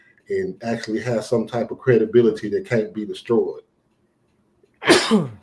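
A single sharp sneeze bursts out near the end, close and loud, following a stretch of someone talking and a brief pause in what sounds like a courtroom hearing.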